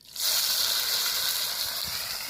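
Onion, tomato and chilies dropped into hot oil in a kadhai, giving a sudden loud, steady sizzle and hiss that holds for a couple of seconds, cooked outdoors beside a river.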